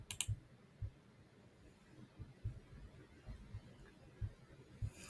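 Quiet mouse clicks tap out at irregular intervals, several soft clicks spread over a few seconds against a faint room hum.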